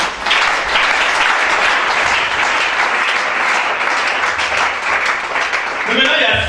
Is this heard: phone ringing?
no